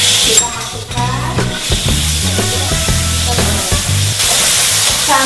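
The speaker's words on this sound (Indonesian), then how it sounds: "Setelah minyak kelapa dimasukkan ke dalam wajan, kemudian bumbu yang tadi yang sudah dihaluskan kita goreng." Ground spice paste frying in coconut oil in a wok, a steady loud sizzle with bursts of crackle and stirring clatter that runs through the whole stretch.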